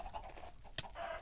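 Quiet, soft clucking of chickens in Minecraft with a brief sharp peck-like click, faint and close.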